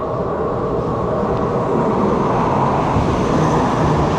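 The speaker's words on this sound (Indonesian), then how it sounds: "setelah lama menunggu, so kereta apinya udah sampai" A loud, steady rumble of a Malaysian intercity train arriving at Tanjung Malim station, continuous heavy mechanical noise with no pauses and no voices.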